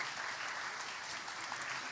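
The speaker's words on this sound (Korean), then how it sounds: "다시 한번 큰 박수로 격려하고 감사해 주시기 바랍니다." A church congregation applauds teachers during a Teachers' Sunday worship service at Yeongju Church, a dense, steady wash of many hands clapping without pause.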